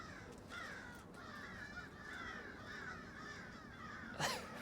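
Crows cawing outdoors beside a balcony in the morning, a steady run of harsh repeated caws at moderate distance, with no talking.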